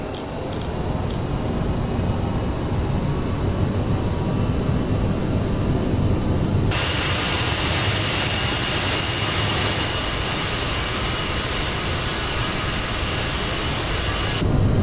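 CRJ jet engines spooling to full power in Flight Simulator, a loud continuous roar and whine that thickens partway through and holds steady to the end.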